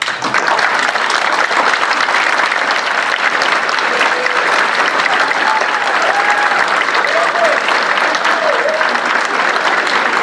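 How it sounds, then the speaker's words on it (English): Standing audience applauding at a university commencement ceremony in Tokyo, loud continuous clapping from a large crowd with faint cheers or whistles rising in the middle. "Please join me in recognizing the family, friends, and others who have supported you in your educational endeavors and helped you reach this day by standing and applauding"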